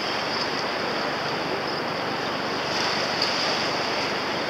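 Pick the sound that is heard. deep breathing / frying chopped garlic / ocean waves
ocean waves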